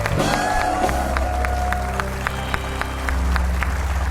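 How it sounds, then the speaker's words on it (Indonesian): A television talk show studio audience applauds for Andre, a dense wash of clapping under music and voices that carries steadily through the whole stretch. "Tepuk tangan dong buat Andre."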